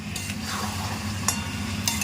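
Mutton stir-fries in oil in a pot, making a close, steady sizzle with a couple of sharp clinks from the stirring utensil.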